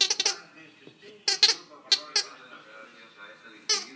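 A dog plays with a squeaky ball toy: sharp, high squeaks come in short clustered bursts with gaps between them, close and fairly loud, and a quiet voice may murmur underneath.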